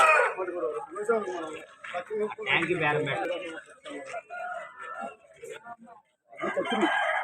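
Roosters crow intermittently in the background at a busy rooster market in Vijayawada, with people talking and bargaining nearby over and around the calls.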